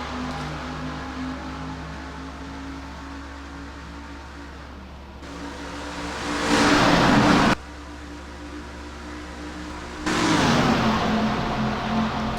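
Restrictor-plate stock cars racing at Daytona in NR2003 during the Mello Yello Duel qualifying race, a steady engine drone swelling as two cars rush past close by, each pass loud and abrupt before the hum resumes.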